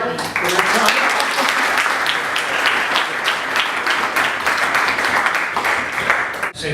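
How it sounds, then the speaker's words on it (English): An audience at a Kiwanis tax levy forum applauds the Mayor and Mark O'Brien, a dense, steady burst of many hands clapping for several seconds, loud and close, with a few voices mixed in before it tapers off. "I want to give a big round of applause to both the Mayor and Mark O'Brien for their time"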